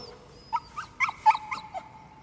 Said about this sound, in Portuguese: Cão bonito, Argo.